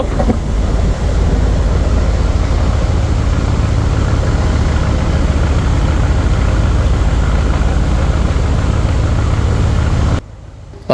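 A passenger launch's engine drones loud and steady on the open upper deck at night on the river near Bhola, with a constant low rumble and wash of water that cuts off abruptly near the end.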